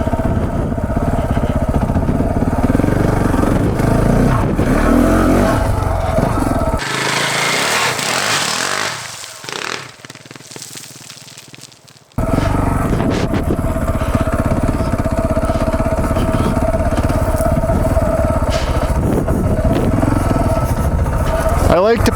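KTM 690 Enduro motorcycle climbing a steep cliff: loud, continuous engine roar and revving close by, which cuts away to a quieter, thinner passage midway before the full engine noise returns.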